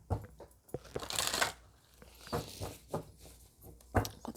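A deck of grace oracle cards is shuffled close by, giving soft papery riffles and flicks in uneven bursts, quiet and without talk.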